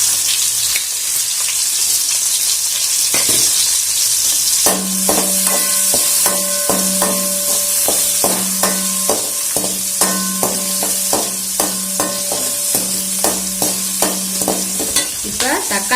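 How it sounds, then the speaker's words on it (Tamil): Onions sautéing with salt in a pan for a Tamil crab soup, a constant hissing sizzle broken by a long series of rhythmic metal spatula scrapes and taps against the pan. "வெங்காயம் நல்லா சீக்கிரமாக வதங்குறதுக்கு உப்பை சேர்த்துக்கிறோம்."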